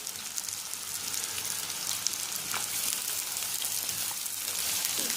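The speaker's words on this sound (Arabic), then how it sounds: "هنحمر البصل اول حاجة علشان ناخد الزيت" Onions sizzle and fry steadily in hot oil in a home kitchen while cooking Egyptian koshari, a continuous close crackling hiss with small pops and no talking.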